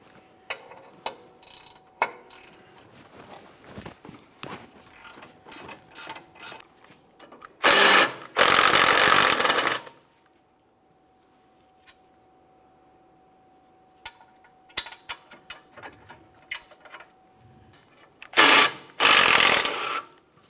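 Ratchet wrench loosening 17mm caliper bracket bolts on a 2008-2017 Mitsubishi Lancer front brake, heard as two loud bursts of rapid clicking separated by a quiet stretch, with a few softer taps and handling noises around them.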